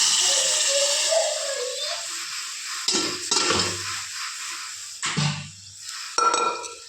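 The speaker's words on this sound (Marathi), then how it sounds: "इकडं बटाट्याची भाजी करायला कांदा भाजायला ठेवलेला आहे" Chopped onion frying in a pan for a potato bhaji, a bright sizzle that rises and falls as a spoon stirs and scrapes against the metal in several close bursts, with no voices.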